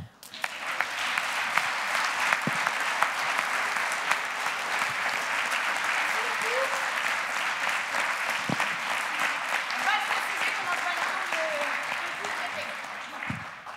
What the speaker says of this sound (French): Je vous propose de les applaudir encore une fois, ils le méritent bien.